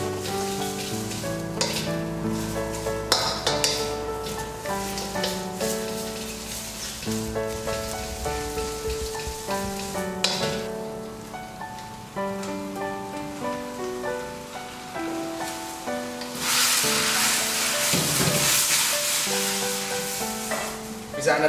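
Water spinach (kangkung) is stir-fried in a hot wok with sauce, giving a steady crackling sizzle with stirring scrapes, then a louder, denser hiss of frying near the end, all under soft background music.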